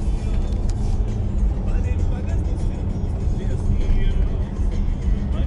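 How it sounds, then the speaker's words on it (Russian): A loaded GAZelle van labours up a steep, curving serpentine mountain road near Sochi, its engine a steady low rumble mixed with surrounding traffic, with people talking over it throughout. "Вон, глядите, как газель тяжело заходит, еще, видимо, груженная."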